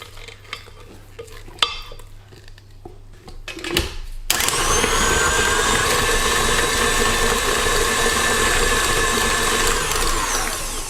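Handling noises and clinks come first. Then an electric mixer starts up at full speed and keeps up a loud, steady whirring drone while beating carrot and date cake batter up close.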